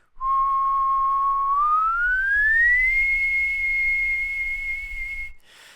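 A single sustained whistle, clear and close, holding a low steady note, then gliding smoothly upward to a higher note that it holds until it stops.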